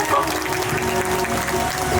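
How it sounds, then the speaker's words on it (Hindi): Loud, dense clapping from a gathered crowd at a Kalash Yatra procession in Saket Colony, Hapur, sustained evenly for about two seconds with no voices standing out. "एक बार समस्त साकेत कॉलोनी वासी एवं हापुड़ शहर वासियों के लिए एक बार जोरदार ताली"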